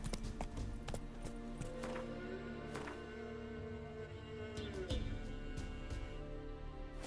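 The horse Roach in The Witcher 3 on PS5, hooves clip-clopping in a steady, even rhythm close by, with a faint game backdrop throughout.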